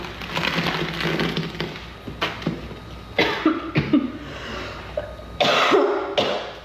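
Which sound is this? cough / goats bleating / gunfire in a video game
cough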